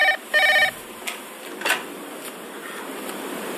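An office telephone in a Hindi comedy sketch rings in two short, bright electronic bursts near the start, followed by a quiet room with faint background hum.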